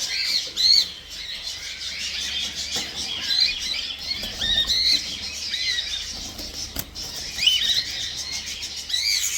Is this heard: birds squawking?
yes